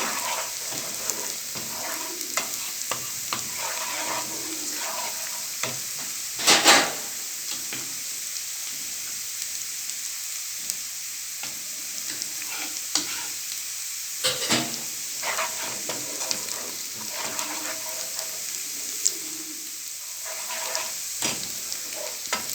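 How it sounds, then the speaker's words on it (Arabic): Garlic frying in a pan for molokhia with shrimp, a soft continuous sizzle and hiss with occasional scrapes as it is stirred, one louder clatter early on, close and unaccompanied by speech. "لسه كده التومه بتاعتنا مخدتش لون. نفضل نقلب فيها كده كويس باستمرار عشان ما تتحرقش"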